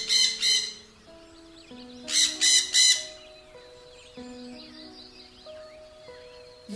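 A parrot gives loud, harsh squawks in two quick bursts at the start and then three more in a row, with a soft background melody running underneath.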